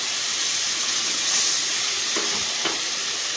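Olive chutney with a splash of added water simmering in a pan, a loud steady hiss and bubbling sizzle throughout with a couple of soft stirring knocks near the end, no voices.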